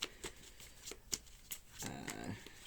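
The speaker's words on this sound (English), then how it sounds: "So you can see me shuffling" Quick papery riffles of cards being shuffled, several short bursts spaced apart, then a longer rustling run near the end; close and moderately quiet.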